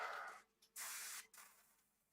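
An airbrush sprays paint onto a Tamiya 1/350 Tirpitz or 1/35 Chieftain scale model in short hissing bursts, close and faint, with gaps between puffs and no talking.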